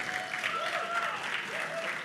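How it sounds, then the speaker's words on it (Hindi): An audience at a Bollywood film song launch applauds steadily in a continuous wash of clapping, with music tones faintly underneath. "एक बार जोरदार तालियां प्लीज."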